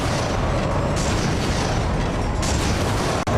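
Negotiator launcher firing in Ratchet & Clank: A Crack In Time, a sustained roar of explosive blasts with a couple of sharper surges and a quick pop near the end.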